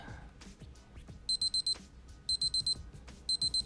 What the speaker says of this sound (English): when the timer is off, it will beep for about 10 seconds